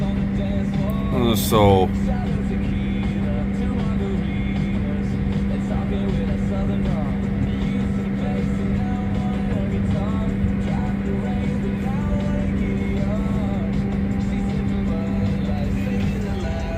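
Skid steer working on slippery, greasy ground in a farm yard, a loud steady diesel drone with a constant low tone throughout, heard from close by with brief talk near the start.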